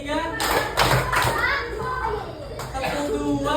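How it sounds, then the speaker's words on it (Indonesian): Fifth-grade children in a classroom clap in a counted routine, several quick bursts of group hand claps mixed with children's chatter and an adult voice talking over them. "Tepuk 1, tepuk 2,"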